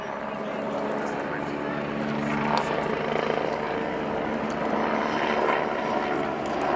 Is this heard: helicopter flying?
yes